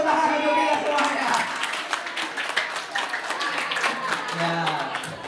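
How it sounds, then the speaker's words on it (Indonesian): Group applause from an audience at an Indonesian motivational and prayer gathering ahead of the ASPD 2023 exam, a steady burst of many hands clapping for several seconds, with voices mixed in. "Tepuk tangan untuk kita semuanya"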